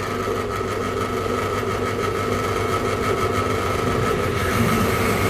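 Drill boring into stainless steel, a loud continuous grinding whir with a steady mechanical drone that runs unbroken from start to end.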